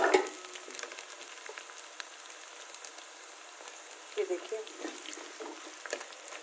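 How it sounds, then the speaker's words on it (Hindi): Onion, coriander, fenugreek and red chilli sizzle in hot tempering oil for a greens dish, a faint steady crackle with a few brief louder spits at the start and near the middle. "तो चलिए ये लगा दिया मैंने तड़का प्याज डाला धनिया मेथी लाल मिर्च"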